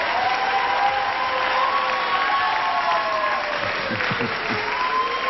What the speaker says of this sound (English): As long as they're applauding, I know they're applauding for you and the job you've done.